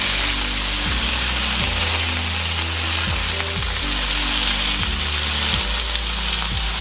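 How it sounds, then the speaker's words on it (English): Chicken sizzles steadily in a pan on the stovetop, a loud continuous frying crackle that fills the whole stretch, with a few light tonal bumps and no talking. "look at her sizzling"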